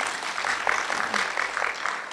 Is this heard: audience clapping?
yes